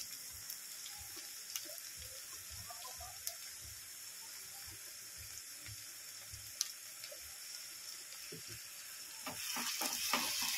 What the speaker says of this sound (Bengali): একটু গন্ধটা যাওয়া পর্যন্ত একটু ভেজে নেবো আদা রসুনটাকে